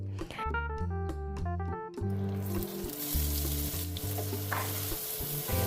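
Thin onion slices fry in hot oil for beresta, a dense continuous sizzle under an instrumental music bed, with a few soft stirring sounds.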